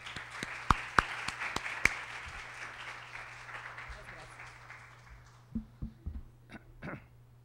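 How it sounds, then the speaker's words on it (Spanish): Audience applause at a university lecture, a moderate spread of clapping with a few sharp nearby claps that fades out, followed by scattered coughs and throat clearing in the room. "le damos un fuerte aplauso"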